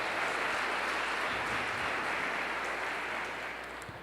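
A church congregation applauds during a Lord's Supper service, a thick, continuous roar of clapping from a large crowd, loud and even, easing slightly toward the end.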